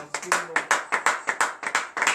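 A church congregation at a Saturday morning prayer in Comè, Benin, claps in rhythmic acclamation, about ten sharp, evenly spaced bursts of many hands, with a few voices faintly mixed in.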